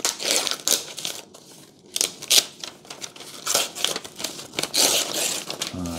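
Packaging for a Fire TV Cube streaming device being opened, with close, crisp crinkling, tearing and scraping of cardboard and plastic in irregular bursts, no talking.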